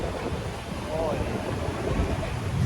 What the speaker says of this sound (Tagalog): Lakas ng hangin mga ka-joiners.